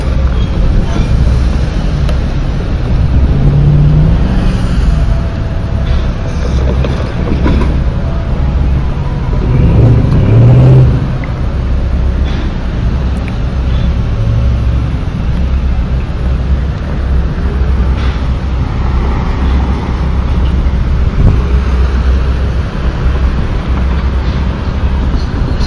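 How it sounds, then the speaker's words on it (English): A train arriving at a railfest rolls in with a continuous low rumble and rattling of cars, steady and fairly loud across nearly half a minute, with brief higher squeals along the way. "The first train already came in."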